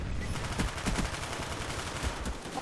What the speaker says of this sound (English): I'm getting shot from like 4 different angles.